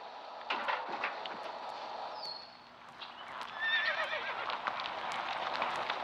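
Horse on a Danish farm, neighing with high whinnying calls amid hoof clip-clops and scattered knocks, with a brief quieter pause before louder activity resumes, moderately close.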